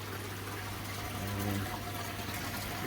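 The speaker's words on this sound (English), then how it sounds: "just doing a bit of a water change on that" Steady water running into a koi quarantine tank during a partial water change, a continuous broadband rush with a low hum underneath, fairly close and constant throughout.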